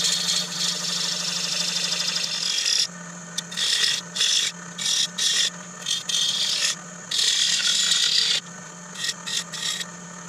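A turning tool scrapes and rasps against a spinning wooden bowl on a lathe, rounding over a bead, in loud bursts separated by short pauses over a steady motor hum.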